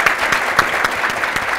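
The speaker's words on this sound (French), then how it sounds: "On applaudit pour l'émission." Audience applause for the French TV show Sérieusement Décalé: a dense, steady wash of many hands clapping close by throughout, with no talking.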